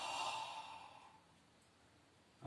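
A single audible exhale during a Pilates breathing exercise, a breathy rush loudest in the first second that fades away into quiet.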